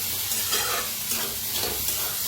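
Sago pearls dry-roast in a pan under constant stirring, producing a steady grainy rustle and faint sizzle that runs evenly throughout, with no voices.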